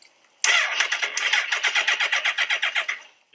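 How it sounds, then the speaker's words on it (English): Motorcycle starter cranking the engine over without it catching: a rapid, steady train of about twenty mechanical chugs lasting nearly three seconds, loud and close, ending abruptly with no firing. "it turns over, but it doesn't start."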